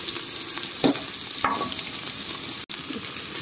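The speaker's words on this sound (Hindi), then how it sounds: "प्याज भी डाल दिए हैं" Chopped onions go into hot oil for a chana dal tadka and fry with a steady, close sizzle, joined by a few brief stirring clinks and scrapes of a spoon against the pan.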